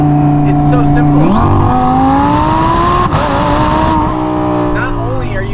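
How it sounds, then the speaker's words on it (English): Twin-turbo Audi R8 tuned by Hennessey Performance, its engine droning steadily and loudly with a rising pitch under acceleration, a shift-like dip near the start, and a whistling turbo layer over the exhaust throughout. "you are getting an unbelievable symphony of turbo noise that goes on right behind you"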